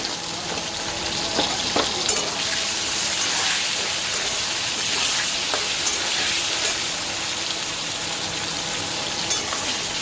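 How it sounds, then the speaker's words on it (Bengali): Potato pieces frying in oil seasoned with salt and turmeric, a loud steady sizzle throughout with occasional soft scrapes of stirring, close up and without talking. "এটা এবার আমি লাল লাল করে ভেজে নেব।"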